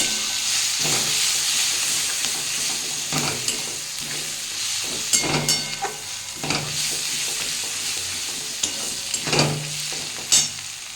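Ground chili powder, turmeric and cumin fry in oil in a pan for a Bombay duck fry. A continuous hissing sizzle carries several scraping stirs at intervals, with no talking.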